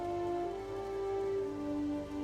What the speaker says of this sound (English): It is another rainy and gray day in Dustswallow.